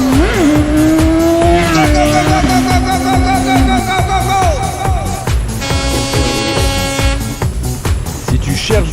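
A 2010 BMW S1000RR sport motorcycle accelerating hard, its loud, close engine whine climbing in pitch and stepping through several gear changes.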